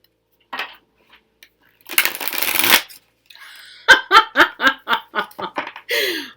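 A Ravyness Drakon tarot deck is shuffled by hand up close: a soft swish, a long ruffling riffle, then a quick run of sharp card slaps and taps in rapid succession, ending with a brief breathy ruffle.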